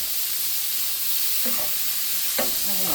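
Steak bites and Yukon Gold potatoes sizzle in melting garlic butter, a constant close frying hiss broken by two brief scraping stirs of a utensil in the pan.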